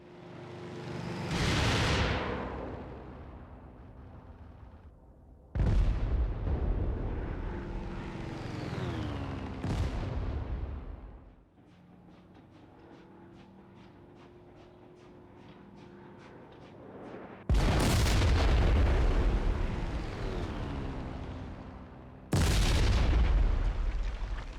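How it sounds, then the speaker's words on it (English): Rockets and bombs from a P-47 strike a train in the IL-2 Great Battles flight game: several loud, heavy blasts erupt over the steady drone of the aircraft engine, with a quieter engine-only stretch between them. "I'll launch all my rockets and drop my bombs"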